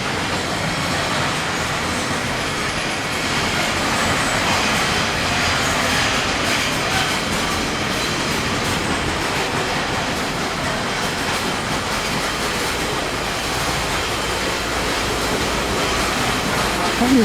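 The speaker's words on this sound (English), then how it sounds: "That noise is a steam train from the other side of the platform." A steam train on a short heritage line of about two miles rumbles steadily from across a platform, a continuous broad roar with faint rhythmic clatter that holds at an even level throughout.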